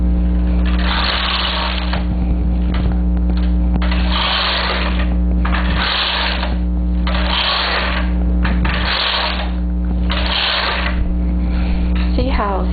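A knitting machine carriage sweeps back and forth over rows of fine garment yarn for a picot hem, making repeated rhythmic whooshing and clattering passes, loud and close, with a steady hum underneath.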